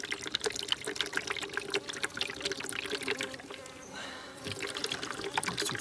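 Syrup being poured out, a steady liquid trickle and splash running for several seconds with a brief thinner stream midway, close by, with faint background noise.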